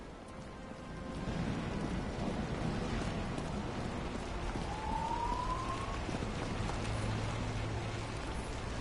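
A police car siren in the video game Nobody Wants to Die rises faintly through a dense, rumbling ambient background, with one brief clear wail partway through.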